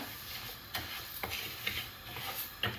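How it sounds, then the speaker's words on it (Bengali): Mung dal roasts dry in a pan, a soft, steady rustling hiss with occasional sharp ticks and clicks as the lentils are stirred and scraped, close and fairly quiet. "মুগ ডাল বাজা হইব"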